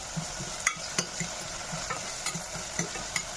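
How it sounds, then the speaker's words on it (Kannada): Chopped onions sizzle and fry in hot oil with curry leaves and dried fenugreek leaves for a pea and potato gravy. A steady crackle runs throughout, with a few sharp spoon-against-pan clicks from stirring. No voices. "ಎಣ್ಣೆ ಕಾದ ನಂತರ ಇದಕ್ಕೆ ಚಾಪ್ ಮಾಡಿರೋ ಆನಿಯನ್ಸ್ ಹಾಕ್ಕೋತಾ ಇದ್ದೀನಿ."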